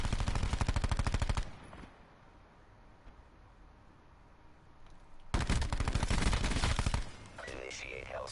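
Gunfire in Black Ops 4, with two long, loud bursts of rapid automatic shots, one at the opening and another near the end, separated by a quieter stretch of game ambience.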